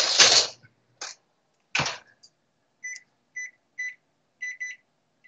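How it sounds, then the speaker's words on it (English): Kitchen oven timer being set while baking a cake: a few longer tones, then a series of short, sharp electronic beeps in quick pairs and singles, close and clear with no talk. "Let me set the timer here."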